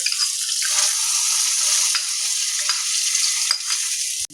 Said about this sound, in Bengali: এখন আমি এই ফোড়নটা ডালের মধ্যে ঢেলে দেব